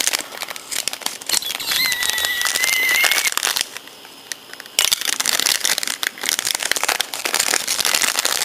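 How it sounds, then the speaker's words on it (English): Scissors snipping and tearing open crinkly Japanese snack packaging, with dense close crackling and rustling of plastic throughout, a faint squeak partway in, and no talk. "get the scissors going here."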